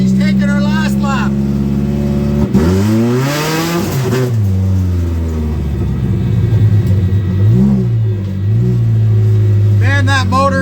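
A car engine on its final lap revs hard and close, its loud pitch climbing and falling in repeated sweeps under a steady rumble, with voices talking over it.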